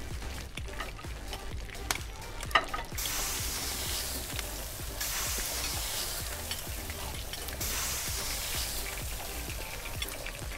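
Food sizzles and fries steadily in the Kebab Chefs Restaurant Simulator video game, a continuous crackling hiss with stirring scrapes and a couple of brief clicks, with no one talking.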